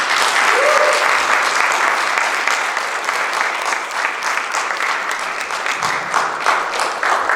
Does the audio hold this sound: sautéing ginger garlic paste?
no